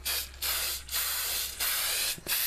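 Spray adhesive hissing from an aerosol can over homemade clay, four steady sustained bursts separated by brief pauses, close and loud, with no voices.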